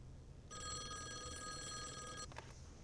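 A telephone rings in the video game Call of the Elder Gods, a steady electronic ring with stacked bright tones holding for about two seconds, then stopping with a brief click, over a low background hum.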